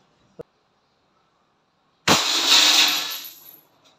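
A Crosman Pumpmaster multi-pump airgun fires a .177 pellet with a faint snap, followed after a pause by a bottle bursting in a loud crash of breaking glass and a fading tinkle of shards.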